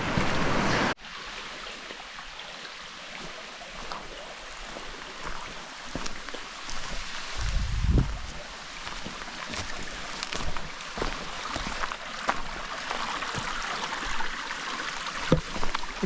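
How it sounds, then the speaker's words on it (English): Steady broadband rush of a rocky stream in Egmont National Park, Taranaki, water flowing over rocks, continuous and fairly close, with occasional splashes and a low thump midway. "beautiful rocky streams"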